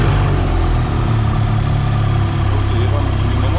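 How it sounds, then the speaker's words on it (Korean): Close and loud, a BMW R1300GSA adventure motorcycle engine idles with an even, continuous rumble while a person talks over it. "저는 엔진 시동을 걸면은"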